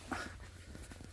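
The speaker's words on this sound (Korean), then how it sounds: "우리 강아지가 왔습니다" A dog arriving in a garden by a fig tree, giving a brief soft whimper and light panting, close but faint against a quiet background.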